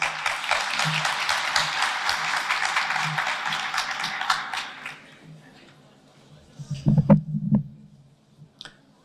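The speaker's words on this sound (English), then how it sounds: "Can I get a round of applause, please?" Moderate applause from a gathering lasts about five seconds and then fades, followed by a few soft thumps and shuffling sounds nearby.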